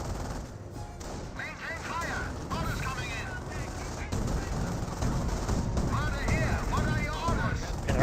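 Rifle squad gunfire in a Company of Heroes battle, a steady dense crackle of shots mixed with busy battlefield noise that stays loud throughout, with a voice talking over it.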